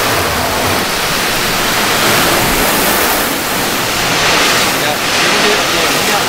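Water floods over a car panel freshly treated with a ceramic spray coating, a loud, steady rushing hiss of spray and runoff that continues unbroken throughout.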